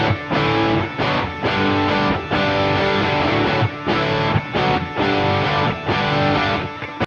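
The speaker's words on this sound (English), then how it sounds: "Now the guitars are huge and full." Quad-tracked electric guitars run through amp simulators play chord inversions and melodies in a loud, dense, distorted wall of sound, strummed continuously with brief rhythmic gaps between chords.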